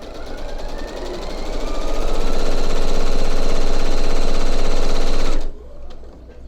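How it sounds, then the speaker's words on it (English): Sewing machine running a quarter inch seam on fabric, a loud fast rattling whir that builds up, holds steady, then cuts off abruptly near the end. "now I sew on this other side."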